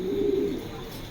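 Two racing pigeons, a male and a female, give a soft low cooing, loudest at the start and then tapering off, close by and without talk.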